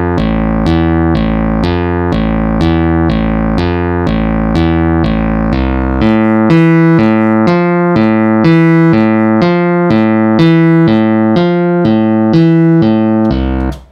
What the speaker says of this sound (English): a certain bass lead that starts the song